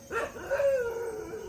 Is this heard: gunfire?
no